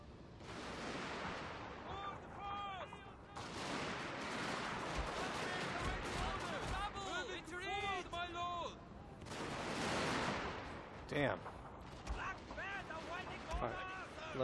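Artillery fire in the video game Total War: Fall of the Samurai, booming blasts and crackling gunfire spread through a continuous battle din, with a voice talking over much of it.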